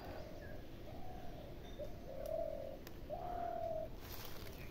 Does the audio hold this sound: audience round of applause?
no